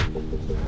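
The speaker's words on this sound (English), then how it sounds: "There's a lot of birds in here." Pigeons cooing inside an old factory, soft repeated coos close by with no talking.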